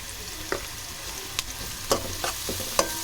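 Onions, green chillies and turmeric sizzle steadily in a pan for a fish curry, with a handful of sharp scraping stirs of a spoon breaking through the frying hiss.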